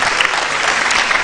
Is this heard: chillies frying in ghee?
no